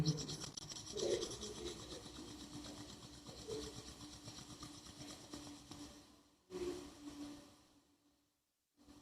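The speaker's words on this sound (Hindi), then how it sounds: "दोनों हथेली रगड़ेंगे।" Both palms rubbed briskly together during a temple prayer gathering, a steady dry rasping friction for several seconds that stops abruptly near the end.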